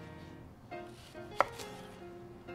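A knife cuts down through an onion on a cutting board, trimming off its ends: one crisp, sharp chop stands out near the middle of a quiet stretch, with a fainter knock just before it.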